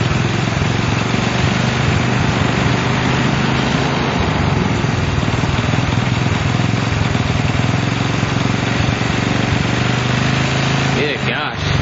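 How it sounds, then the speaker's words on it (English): A Honda CL70 motorcycle's small engine runs steadily and loudly, with an unbroken buzzing drone that continues throughout and shifts slightly right at the end. "And I'm just letting it run out of gas here, so I don't have to dump it."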